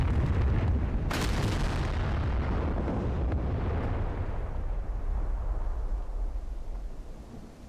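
A sharp game gunshot cracks out against an armored vehicle, followed by heavy booming explosions that roll and rumble, slowly fading into a low continuous drone.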